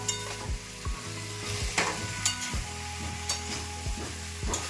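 Food sizzling and frying in a pan while a spoon stirs it, with regular scraping knocks against the pan over a constant hiss.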